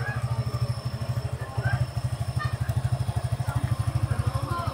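A motorcycle engine idles steadily while warming up, a loud, close, even low putter with a rapid regular pulse that briefly rises as the throttle is opened, then settles back.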